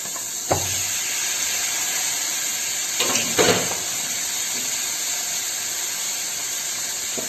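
Chicken frying on high flame in a pan gives a continuous loud hiss and sizzle, broken by a sharp knock near the start and a short burst of stirring scrapes partway through, with no voices.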